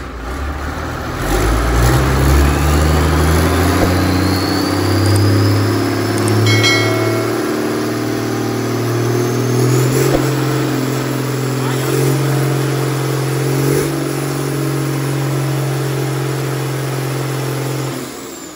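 A Yanmar 6PH turbo marine diesel rated 130 hp at 3100 rpm runs on a test stand, revving up from idle into a steady, loud mid-pitched drone that holds near and constant, with a turbo whine over it and voices speaking nearby.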